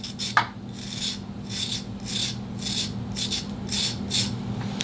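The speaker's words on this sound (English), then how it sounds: "Now we're going to deburr this." A ceramic cutter blade is deburred with repeated rasping, filing strokes, about eight close rhythmic scrapes over a low steady hum, with no talking.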